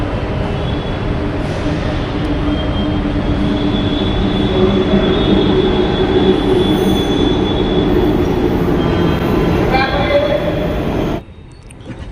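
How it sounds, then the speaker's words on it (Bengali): Ride on a Bangalore elevated metro train, heard from a seat inside as a loud continuous rumble with wheel squeal, easing to a quieter interior near the end. "আর এখন আমি বসে আছি মেট্রোতে"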